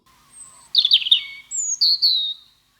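Songbirds of the Outer Banks chirping and trilling clearly and close, a short burst of bright rapid notes followed by two longer whistled phrases against a quiet background.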